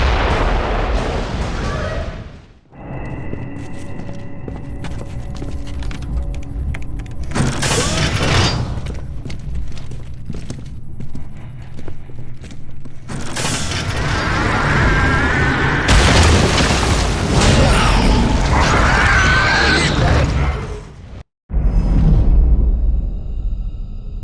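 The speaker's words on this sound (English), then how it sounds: "Mortars! The grubs are gonna flatten that house if we don't stop them!" Mortar fire and explosions boom through a Gears of War: Judgment battle, heavy blasts and rumbling impacts lasting long stretches, loud and close, with mechanical clatter and brief drops to near silence between barrages.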